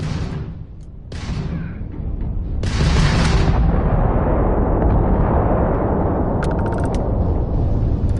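Starship weapons and homing missiles fire in a Starfield space battle, with loud sustained booms and rumbling blasts layered into a dense roar, a few sharp bursts cutting through near the start.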